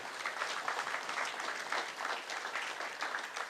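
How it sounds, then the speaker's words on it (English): Applause from a dinner audience at an annual Christmas party dinner fills the room, steady dense clapping at moderate distance with no break, fairly soft overall. "I ask you to give yourselves a round of applause"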